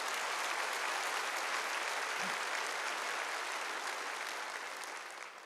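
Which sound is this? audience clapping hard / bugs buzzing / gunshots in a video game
audience clapping hard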